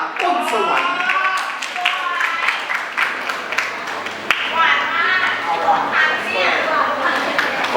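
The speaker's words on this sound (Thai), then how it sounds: "ขอเสียงปรบมือให้กับเธออีกครั้งครับในฐานะรองอันดับหนึ่งมิสแกรน์อำนาจเจริญ 2025 ครับมิ้งปานิดา" Audience applause for the first runner-up at the Miss Grand Amnat Charoen 2025 pageant's final crowning show: a dense, steady clatter of many hands throughout, with an amplified announcer's voice talking over it.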